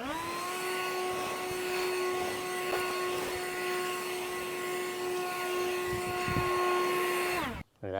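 A Ryobi 18V ONE+ brushless blower clears debris after lawn edging, giving a steady, close, loud whine with a strong tonal hum that holds for about seven seconds, then cuts off abruptly.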